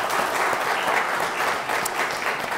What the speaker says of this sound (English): So I think certainly let's give the Lord a round of applause for those boxes.